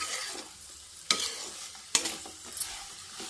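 Okra stir-fried in a hot pan, a soft continuous sizzle broken by a few sharp scraping stirs of the spatula, close and unaccompanied by voices.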